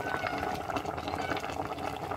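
Fried fish simmering in sauce in a pan, with dense bubbling and a steady, moderately loud burble.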